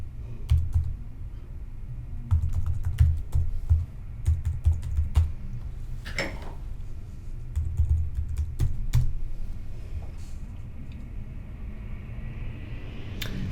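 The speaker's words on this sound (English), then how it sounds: "I'll type mine in." Login credentials are typed on a computer keyboard, close-up key clicks arriving in quick clustered bursts with brief pauses, over a low background hum.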